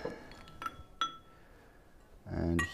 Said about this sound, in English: So I put two ice cubes in both of them